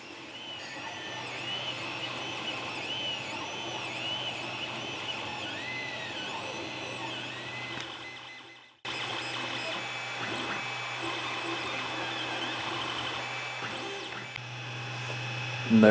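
A Creality Ender 3 Pro 3D printer runs while printing a small dog figure, giving a steady hum with whirring, sweeping stepper-motor tones; the sound briefly cuts out midway before resuming.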